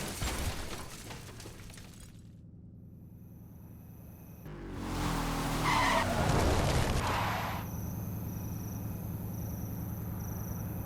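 A car skids under handbrake in the racing game Need for Speed: Hot Pursuit, a loud tyre screech and crunching impact rising midway and fading, between quieter engine hum.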